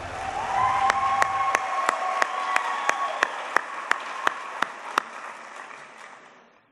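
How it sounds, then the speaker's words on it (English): A crowd applauds at a Teacher of the Year celebration, dense clapping fading to a slow run of single loud claps that trail off into quiet. "Let's give one more round of applause to Alyssa Smith."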